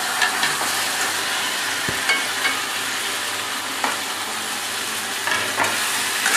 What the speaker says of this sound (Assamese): কাটি লোৱা লাওখিনি আমি এতিয়া এই মছলাখিনিৰ ওপৰত দি দিম।